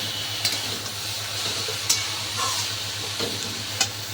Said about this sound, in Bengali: এদিকে শাক ভাজাটা বসিয়ে দিচ্ছি, কালো জিরে ফোড়ন দিয়ে আর কাঁচা লঙ্কা দিয়ে করেছি।